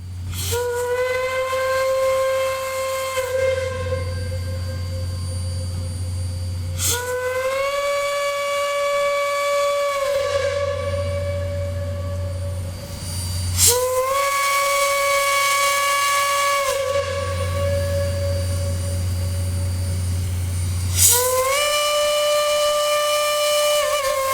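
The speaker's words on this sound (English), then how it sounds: "the crew of the 2102 sound her one-chime hooter whistle 5 times" The one-chime steam whistle of Reading & Northern locomotive 2102 hoots repeatedly, long sustained blasts separated by short pauses, over a constant low hiss and rumble.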